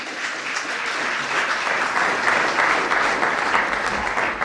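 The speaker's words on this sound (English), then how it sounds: "and I better get some applause." Applause from an audience at a World AIDS Day commemoration, a dense, steady wash of many hands clapping that swells slightly and keeps up throughout.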